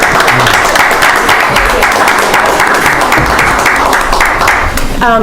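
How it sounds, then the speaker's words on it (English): Steady applause from a sizable audience for a performance by band students, dense and continuous throughout, with a few voices mixed in near the end. "It's really not appropriate to clap, but it's, I think we can tonight."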